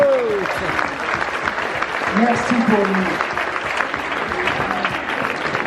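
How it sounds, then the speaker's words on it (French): Applause for the organiser of a rugby photography prize-giving in Albi, a continuous crowd clapping that runs the whole time while a speaker talks over it briefly. "Et je vous demande de l'applaudir."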